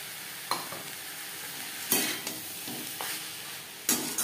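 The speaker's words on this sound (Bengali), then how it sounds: "বাঁধাকপি বেশ ভালো করে মিক্সড করে দেব" A spoon scrapes and stirs shredded cabbage through chicken vegetable soup in a pot, with several sharp scraping strokes over a steady soft simmer, close and fairly clear with no talking.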